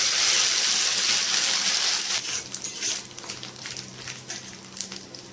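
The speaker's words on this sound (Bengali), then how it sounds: "এবার আদা, জিরে আর শুকনো লঙ্কা বেটে রেখেছিলাম, একবারে মিহি নয়, দরদরা করে, তো দিয়ে দিচ্ছি।" A coarse paste of ginger, cumin and dry chili hits hot oil with a loud burst of sizzling, then settles into softer, crackling frying with a few scattered pops and stirs. It sounds close, and no one speaks.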